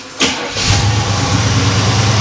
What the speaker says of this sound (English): Next thing to do is to fire up the car